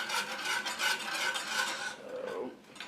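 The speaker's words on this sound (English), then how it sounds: "Whisk that together." A whisk stirs a mixture for tuna and noodles, scraping and clattering against the bowl in quick repeated strokes, fairly close and steady, easing off toward the end.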